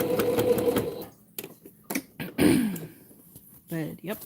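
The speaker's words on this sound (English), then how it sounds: "I don't know if you can tell that my sewing machine sounds like a tractor." A home sewing machine runs loud and rattly, like a tractor, for about a second, then stops. A voice talks afterward with a few short clicks and bumps.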